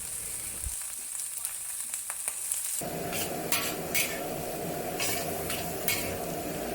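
Baby bok choy hits a hot wok and erupts into a loud, steady sizzle for stir frying, following a quieter stretch of soft clinks, with the spatula scraping through the hiss.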